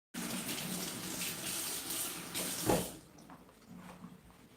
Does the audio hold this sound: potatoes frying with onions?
no